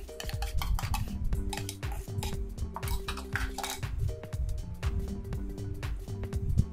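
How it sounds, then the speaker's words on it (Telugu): Rice flour being mixed with curd by hand in a metal bowl for perugu chakralu, giving a steady run of close clinks, scrapes and taps of utensil against vessel with no talking. "ఇప్పుడు మనం పక్కన పెట్టుకున్నాం కదా బియ్యపిండి, ఇందులో ఈ పెరుగంతా వేసేసి బాగా కలుపుకోండి"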